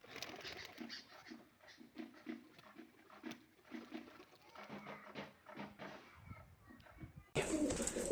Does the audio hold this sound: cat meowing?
no